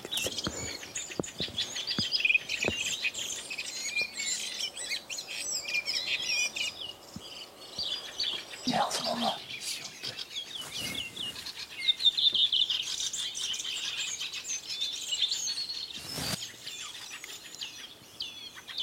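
Wild birds sing in a dense dawn chorus in the Provence countryside, many overlapping chirps, whistles and trills throughout, moderately close, with a few brief wingbeat or rustle bursts and no talk.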